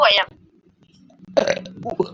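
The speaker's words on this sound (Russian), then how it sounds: "Я просто обычно люблю рыгать" A loud, throaty burp erupts right at the start, then someone talks casually during a streamed session with friends.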